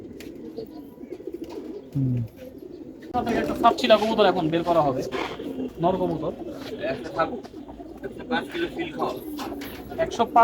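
Pigeons at a home loft in Mirpur 6 coo softly beneath close, steady conversation between men, with a few brief bird calls mixed in.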